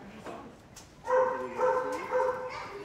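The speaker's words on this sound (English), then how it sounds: "The Boer Bull is a mastiff cross, and these dogs come with a health warning." A Boerboel, a mastiff-cross guard dog, gives a loud, close, drawn-out tonal bark that wavers into a whining note and then repeats.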